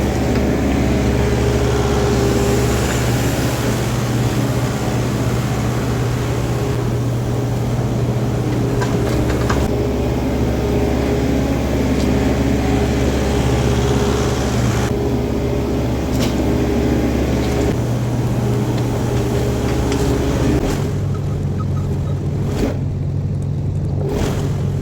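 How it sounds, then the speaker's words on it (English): A New Holland L218 skid steer engine runs steadily inside a barn, a continuous low droning hum with a slight shift in pitch near the end, no voices. "to load today, we're going to use our L218 New Holland skid steer"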